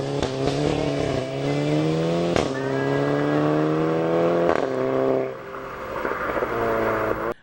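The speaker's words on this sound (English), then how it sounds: "you can actually hear what they call throttle blip, basically a sudden drop or change of the throttle when you change your gears" Volkswagen MK6 GTI with DSG gearbox revving and blipping its throttle on gear changes, engine tone rising in steady pulls broken by sharp shifts, loud and close.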